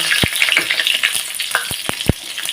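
A whole dried red chili, a bay leaf and panch phoron spices sizzle in hot oil in a kadai, a bright, close, continuous hiss broken by several sharp pops and crackles.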